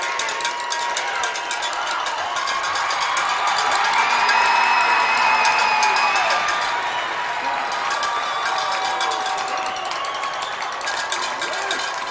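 Crowd at a high school hockey state championship game cheering and clapping in a rink after the final result, a sustained roar with scattered whistles, while people talk over it.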